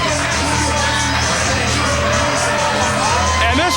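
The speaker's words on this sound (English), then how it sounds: "And this crowd is already letting Lance, Lude, and Xsiris have it." A wrestling crowd at a CWF Mid-Atlantic tag team match jeers Lance Lude and Xsiris with dense, loud, continuous shouting, yelling and whooping that fills the arena.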